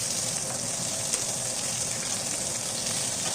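Fish sizzling in hot oil for a crispy hotel-style fry, a steady, even hiss and crackle filling the whole clip with no talk.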